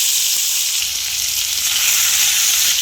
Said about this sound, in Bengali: সর্ষেটা আমরা ফোড়ন দিলাম টমেটোর চাটনির সঙ্গে। টমেটোটা দিয়ে দিলাম